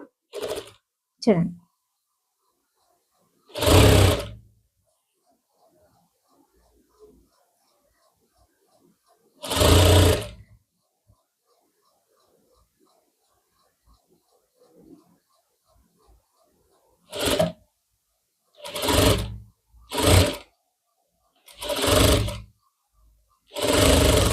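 Sewing machine stitching a blouse's lining onto the main cloth for a back neck design, heard in about eight loud short bursts of running separated by quiet pauses.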